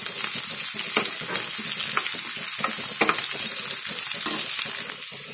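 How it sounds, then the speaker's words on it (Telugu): Spices for gongura pachadi sputter and crackle in hot oil, a loud, steady sizzle with scattered pops throughout, with no voices. "చూడండి పోపు వేగిపోయింది కదా."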